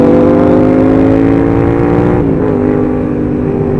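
A motorcycle engine holding a high steady rev, loud and close, then the pitch dips briefly and settles lower as the throttle eases, with no voices.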